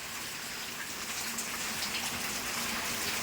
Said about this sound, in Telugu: వర్షం అయితే ఇప్పుడు స్లో అయింది